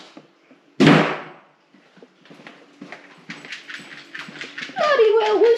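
A dog indoors, after a sharp door-like bang, gives scattered clicks and low whimpering yelps that build toward a louder whining vocal at the end, with a voice heard over it.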